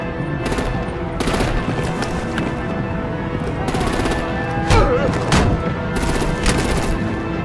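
Rapid bursts of gunfire ring out in an animated Batman film, several sharp machine-gun volleys one after another, loud and close, with faint voices beneath.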